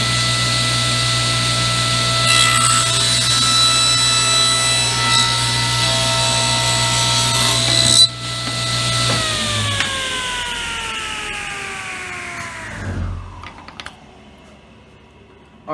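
A table saw blade slices through wood with a push block guiding the stock, a steady whining cut that shifts pitch partway, then the blade spins down to a stop near the end, loud and close with no talk.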